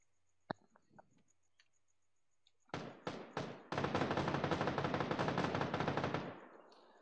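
Gunfire in the battle royale game PUBG during a team deathmatch: a sharp early shot and a few faint taps, then several loud separate bursts and about two and a half seconds of sustained automatic fire.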